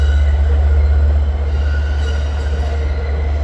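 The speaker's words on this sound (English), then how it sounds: "off goes 664 bound for Port Jefferson" Long Island Rail Road train 664, bound for Port Jefferson, pulls away at Long Island City with a loud, steady low rumble and faint metallic wheel noise. No voices are heard.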